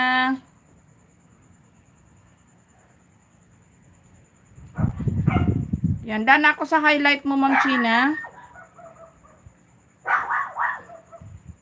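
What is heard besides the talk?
dogs barking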